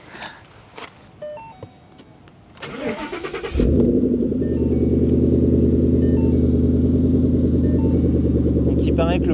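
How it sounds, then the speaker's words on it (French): A Ford Mustang GT/CS is started with a key: speech and clicks come first, then the engine cranks at about 3.5 seconds and settles into a loud, steady, rumbling idle that holds to the end. "Donc là, on va redémarrer la voiture et puis faire quelques revs."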